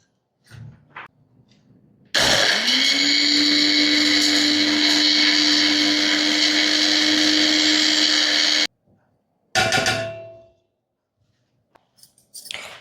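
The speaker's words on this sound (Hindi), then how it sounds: "ये फूल अभी हम मिक्सी में पीस लेंगे।" A mixer grinder grinding flowers whirs loudly and steadily for several seconds, stops, then runs again in a brief second burst.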